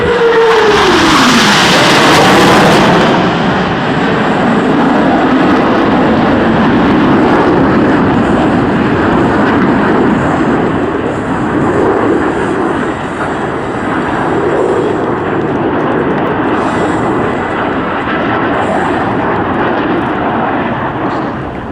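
Blue Angels jets at the 2012 Sioux Falls airshow roar loudly overhead in a sustained, heavy jet-engine rush, opening with a falling whine as one passes, then a steady wash of thunderous engine noise.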